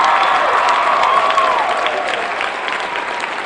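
Audience applause at a talk about personal success, a steady dense wash of clapping from a crowd, loud and sustained throughout, tapering slightly toward the end with no speech over it.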